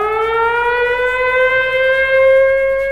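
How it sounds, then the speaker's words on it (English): An authentic World War II air raid siren wails loud and close, its pitch rising steadily in one long sustained tone with no other sounds. "I recorded an authentic World War II air raid siren"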